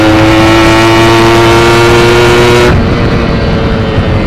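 A motorcycle engine fitted with a PWK 33 carburetor revs loudly and close, holding a steady tone before dropping suddenly and running rough and uneven.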